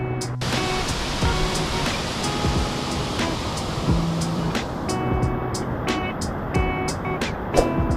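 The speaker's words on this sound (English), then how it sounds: "So it's raining!" Steady rushing rain noise fills the scene in Sri Lanka, a broad wash like a torrent, with occasional bright clicks and a passing vehicle.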